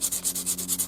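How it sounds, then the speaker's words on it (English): Quick, rhythmic rasping strokes of a sanding stick on a square-wire metal ring, a close, dry back-and-forth scrape repeated about eight times in under a second. "I'm just going to tidy that up on my sanding stick"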